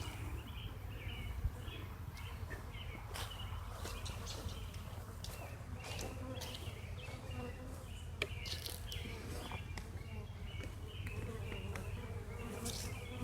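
Honey bees buzzing around a nuc box housing a six-day-old swarm with a newly mated queen, a faint, continuous outdoor hum with a few louder passes near the listener.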